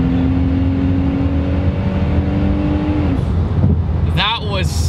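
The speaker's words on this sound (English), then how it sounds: "We also have a turbo spark blow-off valve up front, and when it shifts gears, it just goes choo." A twin-turbo V6 Mustang accelerates hard up close, its engine note climbing steadily before a gear shift, then a sharp, quick turbo blow-off chirp near the end.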